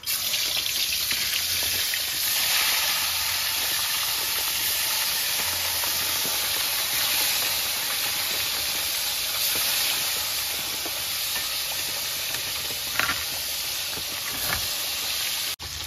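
Rita fish fries in hot mustard oil with a dense, steady hiss and sizzle, close and loud with a few sharp pops, and nobody speaking.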